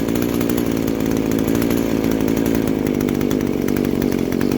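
An Echo SRM2100 string trimmer's small two-stroke engine idles close up, a loud, steady buzzing rattle holding an even pitch throughout with no one speaking.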